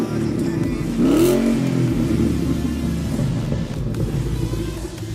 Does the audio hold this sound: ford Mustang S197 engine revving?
yes